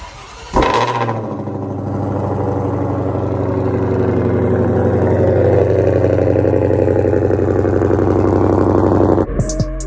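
A 2020 Ford GT500 engine cold-starts with a sharp crank and bark, then settles into a loud, rumbling high idle that holds steady for several seconds before cutting off abruptly.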